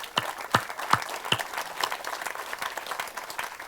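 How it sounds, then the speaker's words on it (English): Audience applause at a memorial gathering, opening with several sharp distinct claps that soon blend into a softer, scattered patter of clapping from a modest crowd. "can we have another round of applause for everyone who spoke,"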